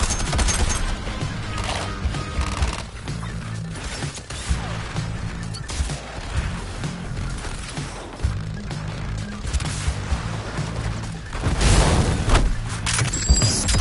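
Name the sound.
gunfire in a video game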